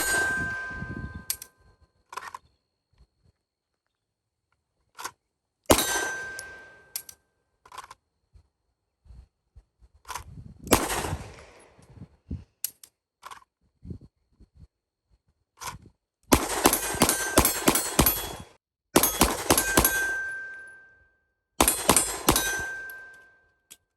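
A Beretta 92 pistol fitted with a Parker Mountain Machine compensator fires hot European NATO-spec ammunition outdoors: sharp, loud single shots, then quick strings of rapid shots, each with a ringing tail and metallic pings.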